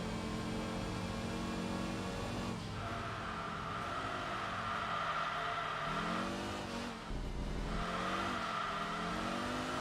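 A turbocharged inline-five race car engine from Enthusia Professional Racing drones loudly and continuously, its pitch climbing through the gears with short dips at each shift and a faint tire squeal in the mix.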